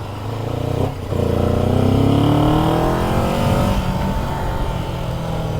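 A 2024 Kawasaki Z7 Hybrid motorcycle with an e-clutch shifts gears while riding. The engine note climbs, dips briefly at a shift about a second in, then rises again and settles, loud and close.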